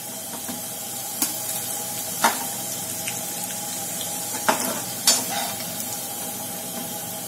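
Bitter gourd (karela) slices frying in hot oil in a home kitchen, giving a steady soft sizzle with a few sharp clinks and pops from utensils against the pan; no voices.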